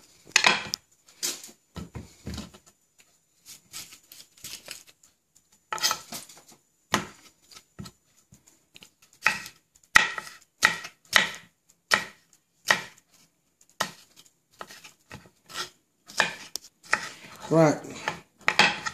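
A knife chops vegetables, including capsicum, on a board for a green salad, sounding as close, crisp, irregular strokes that come in quick runs separated by short pauses.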